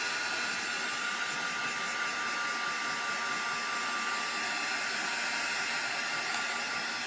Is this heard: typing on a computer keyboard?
no